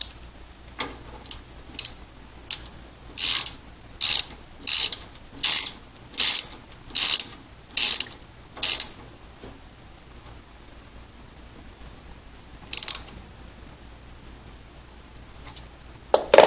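A 14 mm socket wrench ratcheting on a flange nut during crossbar installation, a quick series of about a dozen close clicking bursts in even rhythm, then a pause and a few more clicks near the end.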